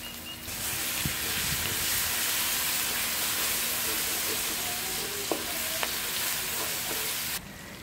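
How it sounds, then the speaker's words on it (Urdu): Onions frying with ginger-garlic paste in a pan give a steady, loud sizzle and hiss, with a few brief clinks of stirring near the end and no talking. "پیاز کو اچھے سے فرائی کریں گے۔"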